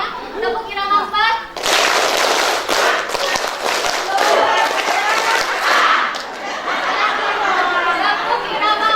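Mothers at a community posyandu health gathering in Indonesia clap together in a patterned rhythm, the dense ragged claps blending with chatter and laughter across the room.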